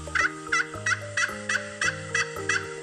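Turkey gobbling in a rapid, even series of about eight gobbles over a bouncy children's phonics song backing, each call a short bubbling burst.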